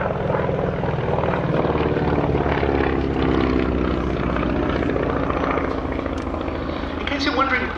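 A Beechcraft Staggerwing biplane flies past at an East Kirkby airshow, its radial engine and three exhaust pipes giving a loud, throbbing, uneven drone that holds steady for several seconds while a commentator talks over it.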